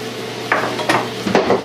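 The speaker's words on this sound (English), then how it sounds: "I'm just going and I'm scraping up the burned-on bits." A spoon scrapes burned-on bits from the bottom of a pan of Swedish meatballs while stirring, making three or four quick, close metallic scrapes over a low, steady simmer.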